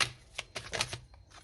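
Tarot cards slide and snap as one is drawn and laid over another, giving a quick run of close papery flicks and rustles with no voice over them.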